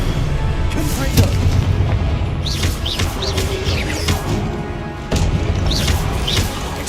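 A Confringo fire spell explodes in the Hogwarts Legacy game with heavy booming blasts and crashes amid continuous combat noise and chirpy magic effects, loud and close.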